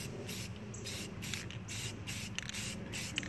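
Spray primer dusts a miniature in short bursts, a loud, close, hissing spray that pulses on and off as the can rakes back and forth, with no talk.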